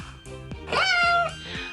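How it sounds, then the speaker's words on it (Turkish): A cat meows from a house rooftop in one drawn-out, rising and falling call of about half a second, close and fairly loud, with faint background noise around it. "Kedicik yukarı çıktı evin çatısına çıktı."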